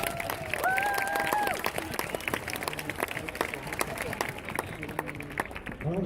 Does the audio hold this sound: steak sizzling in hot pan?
no